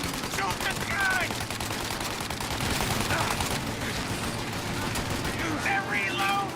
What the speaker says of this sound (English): Shoot out your gun when there's a break in the fire!